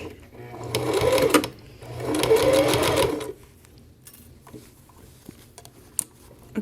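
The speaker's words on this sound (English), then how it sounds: "I'm going to start stitching and making sure again that there's nothing underneath" Two close bursts from a home sewing machine stitching dog coat fabric from a Simplicity 8538 pattern, each lasting over a second, followed by quieter handling sounds.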